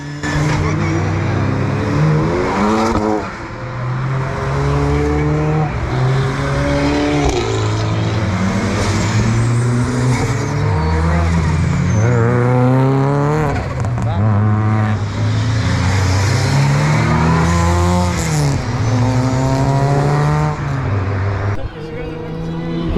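Race cars, including an MX-5 and an Escort, lapping at a Cadwell Park time attack: repeated engine roars rising and falling as they accelerate and pass nearby, with someone talking over the noise.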